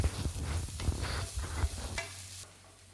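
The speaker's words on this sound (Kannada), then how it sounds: "ಈಗ ಇದೆಲ್ಲ ಐಟಮ್ಸ್ ಈಗ ಫ್ರೈ ಆಗ್ತಾ ಬಂತು." Thin slices of garlic and ginger frying in a pan, a close crackling sizzle with several scraping stirs before it quiets toward the end, with no talking.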